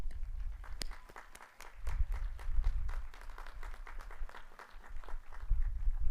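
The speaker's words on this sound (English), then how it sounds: "Give them a round of applause." Graduation audience at a spring commencement and hooding ceremony clapping in a large hall, a loose, uneven patter of applause that rises and falls, with some low rumble underneath and no speech.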